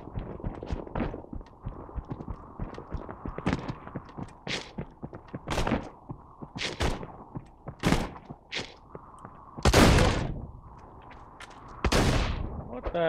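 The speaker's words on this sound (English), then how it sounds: "Just testing out my shotgun." Borderlands 2 shotgun blasts boom repeatedly at irregular intervals over a busy game soundscape, several sharp loud bursts standing out among smaller shots and thuds.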